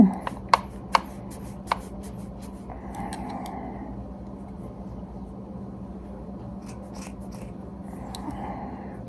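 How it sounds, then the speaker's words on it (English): A few crisp scissor snips through excess sock fabric while a sock gnome is being made, bunched near the start, followed by a low, steady background hum with no talking. "And then cut some of this excess sock off."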